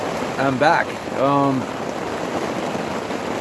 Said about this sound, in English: it's raining outside. We've had some thunder and some lightning, and it's just, I guess you can hear it on the tarp.